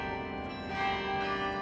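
Church bells ring out across Brussels, a dense, sustained peal of overlapping tones heard from some distance, fairly soft and continuous with no talking.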